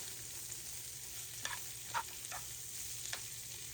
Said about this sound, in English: I'm gonna add my shallots and my minced garlic to this pan.